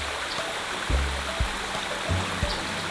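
A crystal-clear river flowing beside a mountain at a campsite on the Dapya River in Cabangan, Zambales, heard as a steady rushing wash, with a few low thumps underneath and no one speaking.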